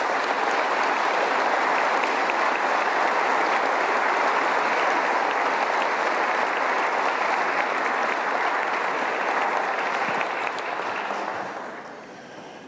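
Audience applause at the West Virginia State of the State Address, a dense, steady roar of clapping from a large crowd lasting about eleven seconds before tapering off.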